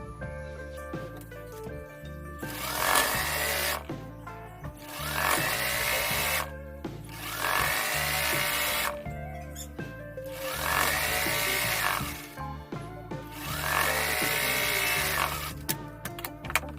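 A sewing machine stitches cord-filled double piping in short runs: four or five close bursts of rapid whirring, each a couple of seconds long, separated by brief pauses.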